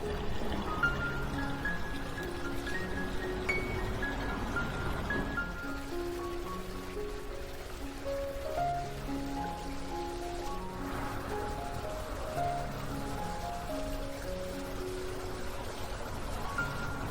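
A garden water fountain trickles and splashes continuously outdoors, a soft steady stream with bright, irregular watery patter, moderately close and without talk.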